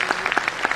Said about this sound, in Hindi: तो एक बार जोरदार तालियां इस इवेंट के लिए,